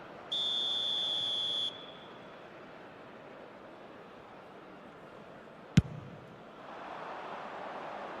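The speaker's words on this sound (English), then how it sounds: "the whistle's gone, presumably for offside" A referee's whistle calls offside in the eFootball video game: one sustained, piercing blast lasting over a second, followed by low stadium ambience and a single sharp click.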